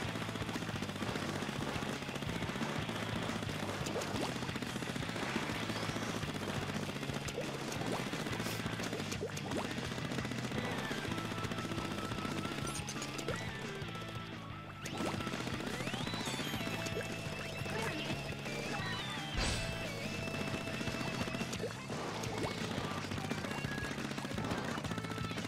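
Big guns firing in the Splatoon video game during a Turf Wars match, continuous rapid gunfire bursts layered over game music and effects, loud and sustained.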